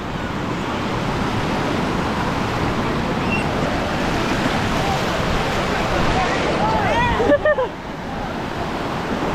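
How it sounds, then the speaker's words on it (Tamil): Surf washing steadily around people wading into sea water on a Kerala trip, with broad continuous wave and wind noise, brief splashes and a few faint voices near the end. "இப்போது தண்ணிக்குள்ளே போகிறோம்."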